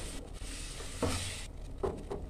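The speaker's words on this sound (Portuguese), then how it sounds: "A gente vai refogar aqui o recheio da nossa torta." Chicken pie filling sautéing in a pan, a soft steady sizzle with brief stirring scrapes and clinks at a moderate, close distance.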